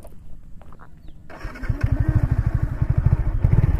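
A fully modified 2022 Yamaha MT-15 motorcycle fires up after a quiet moment, then its exhaust settles into a loud, close, rapid pulsing idle with a throbbing rhythm.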